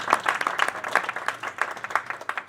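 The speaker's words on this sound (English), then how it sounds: "a round of applause for Tyrone for bringing us all together today" A small gathering claps in thanks for an organizer, a light, uneven patter of individual hand claps close by, with distinct separate claps rather than a dense roar, lasting a couple of seconds.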